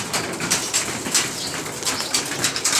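Pigeons landing down from a roof, their wings flapping in repeated bursts of fluttering close by, with faint cooing in the background.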